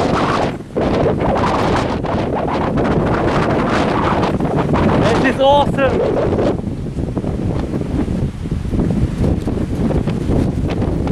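Strong wind gusts during a thunderstorm buffet the microphone with loud, continuous roaring rumble, easing somewhat toward the end, while someone speaks briefly over it.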